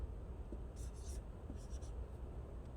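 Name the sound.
writing a chemical formula on a board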